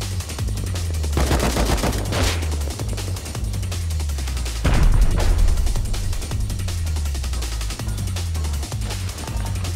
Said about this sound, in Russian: он зажигательными стреляет, это больно